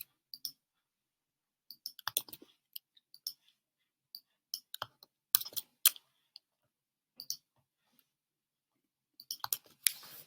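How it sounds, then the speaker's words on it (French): Computer mouse clicking, close and quiet, in short scattered bursts of single and double clicks with pauses between, alone in a silent room. "Vous cliquez sur ce lien-là qu'on vous met à disposition"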